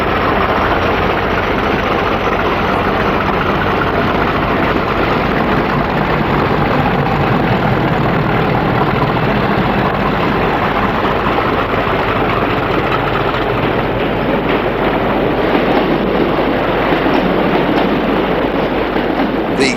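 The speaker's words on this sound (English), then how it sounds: ".5016 departs from Dawlish with a rake of HST Mark III's bound for Laira." A British Rail Class 50 diesel locomotive departs Dawlish hauling HST Mark III coaches, a loud, steady, low engine drone that fills the whole stretch without letting up.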